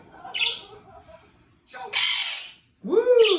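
A pet parrot lets out loud, harsh squawks close by in separate bursts, ending with a rising and falling screech. There are soft chirps between the calls.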